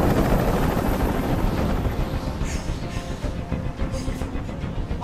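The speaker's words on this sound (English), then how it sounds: "I can't stand that noise anymore. Tell that helicopter to get out of here." A helicopter hovers in Detroit: Become Human on PS5 Pro, its rotor thrumming loud and close in a dense, fluttering roar that holds steady the whole time with no voices.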